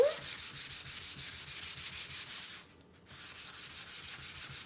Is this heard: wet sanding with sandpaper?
yes